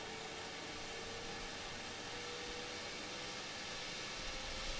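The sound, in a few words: jet engine winding up in PMDG NGX video game flight simulator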